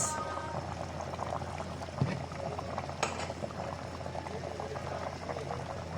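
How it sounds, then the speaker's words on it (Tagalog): A pot of mung bean stew simmers with a steady bubbling, thick crackling boil, continuous and close, with a few small clinks of utensils. "kumukulo na po ang ating ginisang munggo"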